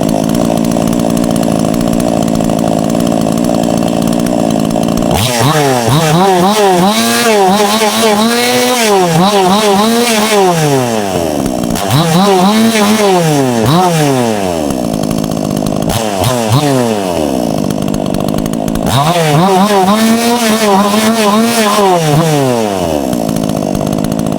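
A Krathing Dam 5800 chainsaw, 2025 model, roars to life and runs loudly up close, its pitch repeatedly surging and dropping as the throttle revs and eases off.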